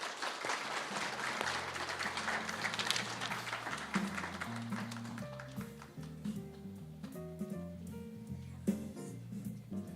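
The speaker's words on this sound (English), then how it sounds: "Another round of applause for the Commissioner" Audience applause for the Commissioner at the close of a launch event: dense clapping fills the first half, then thins out and fades under steady low musical tones.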